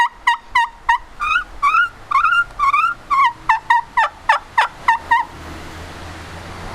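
A handmade black walnut turkey call gives a series of about fifteen sharp, evenly spaced yelps and clucks, loud and close, before falling quiet.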